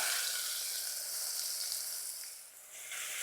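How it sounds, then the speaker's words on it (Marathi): Crushed garlic and finely chopped onion fry in hot oil with a dense, continuous close-up sizzle that dips briefly before returning to full strength, without any voices. "तेल तापलं आहे आता आपल्याला ह्याच्यात ठेचलेला लसूण टाकायचा आहे आणि बारीक चिरलेला कांदा"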